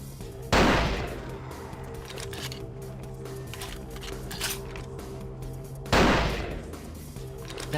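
Two loud, sharp gunshots about five seconds apart in Vampire the Masquerade Bloodlines, each a sudden blast with a short decaying tail, standing over a steady low in-game ambient hum.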